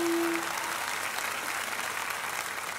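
A talent show audition audience applauds for an 8-year-old singer born blind, a loud, sustained roar of clapping that fills the hall. A brief tone sounds at the start.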